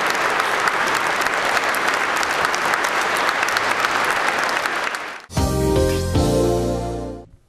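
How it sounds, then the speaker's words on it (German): Long, sustained applause from a concert audience for soloists and orchestra, dense and loud, breaking off abruptly into a tonal music passage in the last couple of seconds. "Das Publikum bedankte sich bei Solisten und Orchester mit langanhaltendem Applaus."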